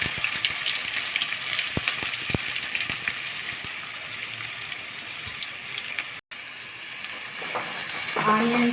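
Thinly sliced onions sizzle in hot oil with a loud, continuous hiss, a few clinks of stirring, a brief break, then the frying resumes with a voice starting to talk at the end.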